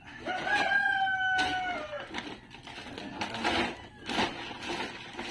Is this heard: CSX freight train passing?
no